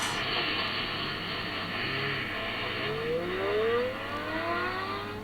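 Synthetic car engine effect played through the cooling fan of a REDMAGIC 10S Pro phone, a steady revving drone with rising gear-shift sweeps building over the last few seconds, moderately loud and alone.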